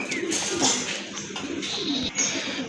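Pigeons coo at close range in a domestic pigeon market, with several overlapping soft, throaty calls repeating steadily against a busy background.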